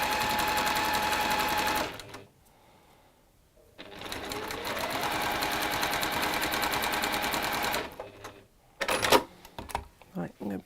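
Sewing machine stitching fabric at a fast speed, a dense mechanical whirr in long bursts broken by short pauses, with someone talking over it at times.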